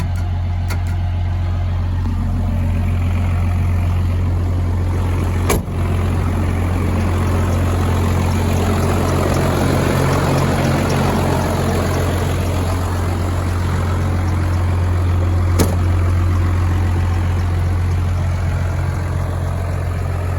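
First-generation 12-valve Cummins diesel, mostly stock, idling: a steady, heavy low drone held evenly throughout, with a couple of faint brief clicks over it.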